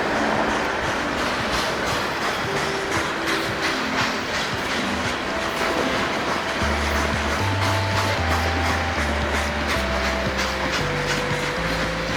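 A train rumbles past steadily, with a low heavy drone and rhythmic rattling of the cars, loud and close throughout.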